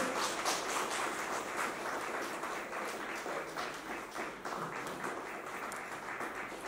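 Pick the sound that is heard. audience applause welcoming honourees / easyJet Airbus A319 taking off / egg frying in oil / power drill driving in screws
audience applause welcoming honourees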